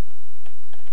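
Soft, scattered key taps on a computer keyboard, a few light clicks spread unevenly over a quiet background with faint room hum.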